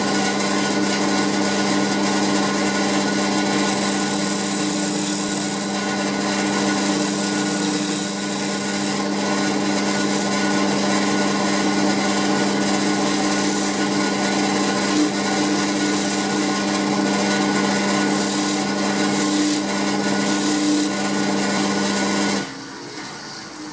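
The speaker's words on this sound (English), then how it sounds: "I'll turn the rest of the edges." A lathe spins as a tool turns the edges of a wooden hourglass, a continuous loud hum with a steady scraping, rasping cut that runs for over twenty seconds before the tone drops away at the end.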